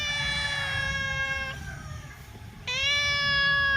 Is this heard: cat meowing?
yes